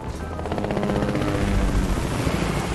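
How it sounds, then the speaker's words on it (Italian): A helicopter in the video game Fortnite flies close by, its loud, steady rotor chop and engine whine filling the whole stretch with no voices over it. "Sento un elicottero, raga. Sento un elicottero e non mi piace per nulla."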